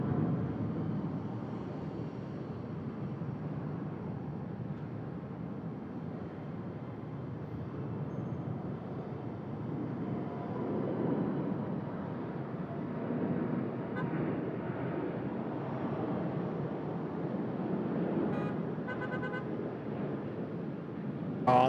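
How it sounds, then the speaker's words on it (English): Emirates airliner taking off at Sydney Airport, a broad distant roar of jet engines swelling gradually and rumbling steadily throughout. "Come on, Emirates, let's rotate now."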